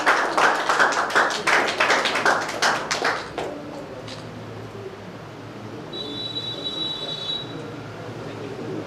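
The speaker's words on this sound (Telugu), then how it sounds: "గట్టిగా చప్పట్లతో కార్యక్రమాన్ని నాట్యంగా ప్రారంభించుకున్నారు" Applause from an audience opening a Vivekananda Jayanti youth celebration in Indur, with dense clapping for about three seconds that then fades into quieter hall ambience.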